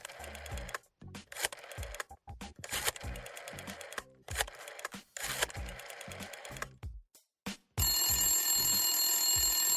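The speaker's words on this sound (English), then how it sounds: "Yes, I have a rotary dial phone" A rotary dial telephone rings in a home in repeated bursts of rattling bell tones broken by brief gaps, then settles into a steadier, continuous ring near the end.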